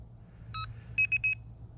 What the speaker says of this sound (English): bite alarm sounds